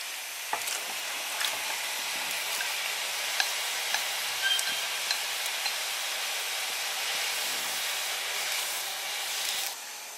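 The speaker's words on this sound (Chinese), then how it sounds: "水烧开，咱要这个肉片放进锅里。" Pork slices cook in a pot of boiling water, giving a soft, continuous bubbling hiss with scattered small pops and ticks, fairly quiet and steady throughout.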